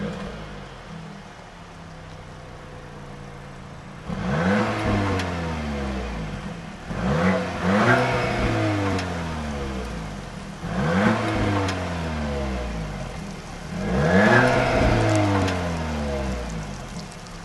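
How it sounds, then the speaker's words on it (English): A 2023 Audi S3 with a quad-tip exhaust revs repeatedly: four or five sharp climbing blips with falling, crackling trails, loud and close after a quiet idle, with a steady hiss of rain in the background. "I'll go ahead and let you have a sound sample of this exhaust."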